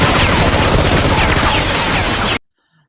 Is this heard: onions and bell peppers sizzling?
no